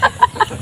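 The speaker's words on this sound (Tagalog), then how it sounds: "Manok na buhay. Manok na itim ang ulo." A live black-headed chicken gives three quick, close clucks in a row, each sharp and short, with brief pauses between them.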